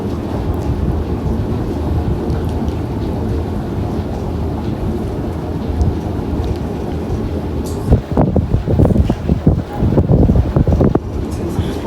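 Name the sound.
wind blowing outdoors at beekeeping site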